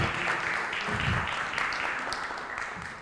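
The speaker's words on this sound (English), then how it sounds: "Another round of applause for our ED." An audience at an International Youth Day event breaks into sustained applause, dense and steady throughout, with a brief murmur of voices underneath as the clapping slowly tapers.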